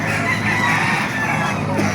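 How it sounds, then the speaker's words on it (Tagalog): Roosters crowing at a busy chicken market in Baliuag, Bulacan, loud and close, with overlapping calls and clucking from other birds in a continuous din. "napakagandang manok ito, bulto katawan"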